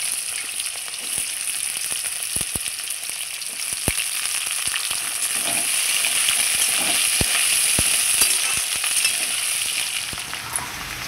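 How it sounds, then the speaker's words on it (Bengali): Potato pieces drop one by one into a pan of hot tempering spices and fry, making a constant bright sizzle broken by scattered sharp clicks and taps, with no voices. "আমি এখন কেটে ধুয়ে রাখা আলুগুলো দিয়ে দেব।"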